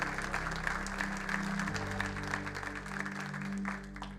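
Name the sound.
audience applause in church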